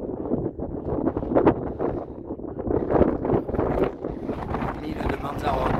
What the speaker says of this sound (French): on est plein vent, donc je ne sais pas si tu vas m'entendre.